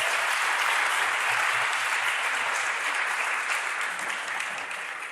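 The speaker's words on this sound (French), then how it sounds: "Je pense qu'on peut les applaudir." Sustained applause from a theatre audience greets four sign-language performers joining a Lion King show at Disneyland Paris. The dense clapping stays even throughout and fades slightly at the end, with no voices over it.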